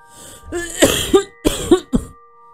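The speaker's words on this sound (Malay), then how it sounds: "Terbatuk-batuk dia." A man coughs repeatedly in two close bursts of harsh, throaty coughs, loud and near, over a faint steady hum.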